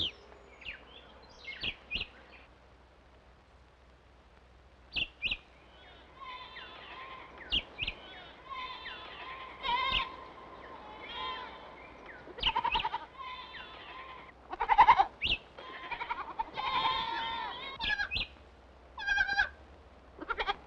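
Goats bleat intermittently in short calls, some overlapping, at moderate distance over a quiet background, on the Caribbean island of Saba.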